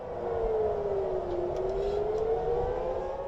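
Air raid warning siren sounding over Tel Aviv and Jerusalem, a loud continuous wail that dips and then rises again in pitch, steady and unbroken throughout with no voices.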